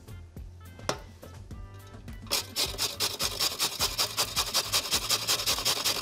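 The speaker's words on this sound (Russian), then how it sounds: "быстренько на терке. Все это надо натереть." Peeled carrots being grated on a kitchen grater, starting with a few scattered scrapes and then settling into fast, steady, rhythmic rasping strokes close by.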